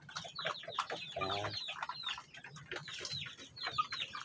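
Shamo Aseel chicken clucking, a steady run of soft repeated clucks and chirpy calls from several birds close by, with one brief louder squawk near the middle.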